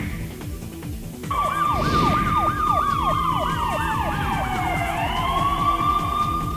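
A loud police siren starts suddenly and wails in rapid rising-falling cycles, then settles into a slower sweeping tone, close by with traffic rumble underneath.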